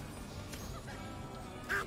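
Donald Duck in the video game Disneyland Adventures gives one short quack near the end, over a continuous background of game music and ambience.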